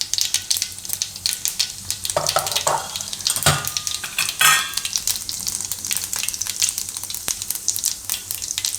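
Mustard seeds and cumin sizzle loudly in hot oil, a dense continuous crackle and spatter heard close up, with brief bursts of stronger hissing and no talking.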